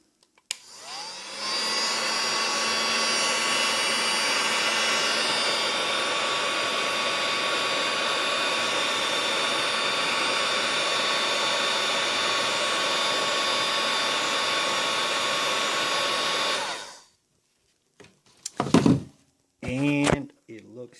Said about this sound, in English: heat gun to heat it up